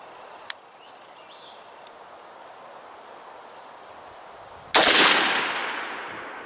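A single sharp rifle shot rings out at an outdoor range while a budget-build rifle is zeroed, with a long decaying echo, preceded by a faint click and distant bird chirps.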